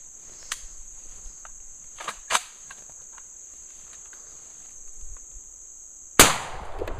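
A shotgun fires once, close and loud, at a homemade exploding chalk-and-clay target outdoors; the sharp blast comes near the end after a stretch of quiet with crickets chirping steadily in the background.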